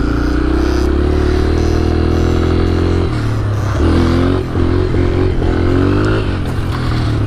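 A flooded snowmobile engine revs hard and steadily in the snow, its pitch rising and dipping through a continuous loud buzzing drone with no talking.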